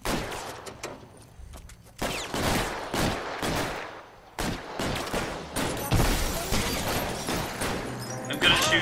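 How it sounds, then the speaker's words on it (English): Gunfire in the video game L.A. Noire, bursts of loud sharp shots and rapid volleys in clusters, with someone talking over parts of the shooting. "I'm gonna shoot. The idea is to shoot"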